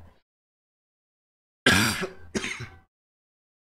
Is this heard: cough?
yes